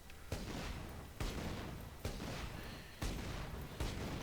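Torgue assault rifle fire in Borderlands 2, heavy booming shots landing about once a second, five in all, each with a long rumbling tail that blends into the next.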